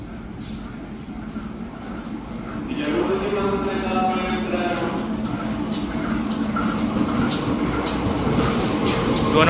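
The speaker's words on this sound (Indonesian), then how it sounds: "Nah ini dia kereta api Serayu." The Serayu passenger train from Purwokerto rolls through a busy Jakarta station, a steady mechanical rumble rising after a quieter start and holding loud and close, with some voices in the background.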